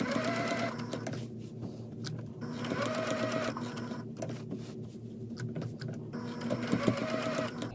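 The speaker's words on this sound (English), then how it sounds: "I'm starting to stitch, and I just thought I would give you a little close-up of this" Sewing machine stitching a Dresden plate quilt, running in close steady bursts of rapid mechanical whirring with short pauses between runs.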